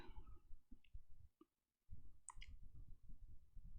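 A computer mouse clicks an on-screen OK button in a VirtualBox Linux Mint session: a few sharp, isolated clicks at close range over a low, steady background hum, with a brief dropout to silence partway through.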